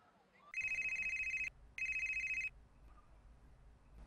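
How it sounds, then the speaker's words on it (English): A telephone rings twice with a bright electronic trilling bell, each ring about a second long with a short gap, loud and close over faint background noise. "Mr. Bubba Joe, you got an important phone call"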